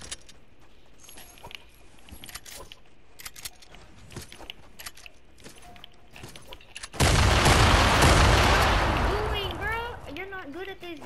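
A sudden loud explosion booms and rumbles as a loot chest is blown up in a shooter video game, following a stretch of clicks and talking, with the blast slowly fading under chirping effects.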